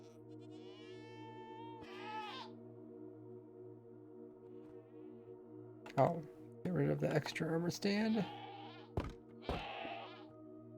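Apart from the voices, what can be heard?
goat bleating in Minecraft, from a video game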